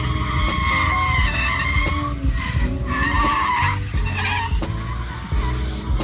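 A Lexus GS300 drift car with a 2JZ engine and welded differential skids around a track, a loud, continuous roar of engine and tire noise with shifting squeals and revs that stays close throughout.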